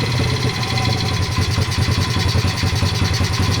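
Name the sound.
modded Honda pit bike engine running after carburetor adjustment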